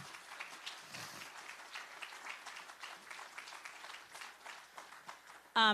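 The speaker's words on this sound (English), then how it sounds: "I think that deserves a round of applause" Audience applause at an adult education graduation ceremony, steady clapping throughout, fairly faint and diffuse, ending with a brief louder burst.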